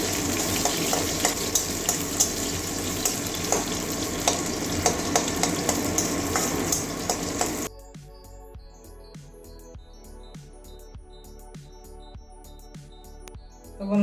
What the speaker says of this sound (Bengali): একটা পেঁয়াজ কুচি পেঁয়াজ কাঁচা লঙ্কা এগুলো একটু ভেজে নেবো